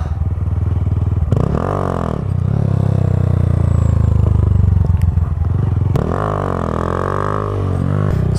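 Motorcycle with a slipping clutch riding past loud and close, engine droning steadily with rising and falling revs, a sharp surge near the start and another rev-up later, with light clatter.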